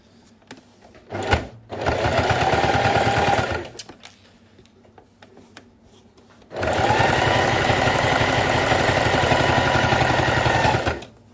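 A sewing machine topstitching a fabric school pouch, two long steady bursts of rapid mechanical stitching separated by a pause with faint handling noises, close and clear with no talking.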